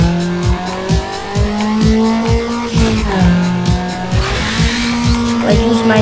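Race car in the Need For Speed Underground Rivals video game boosting with NOS during a circuit race, loud close engine with repeated rising gear-shift revs and tire squeal, steady rhythmic pulses throughout.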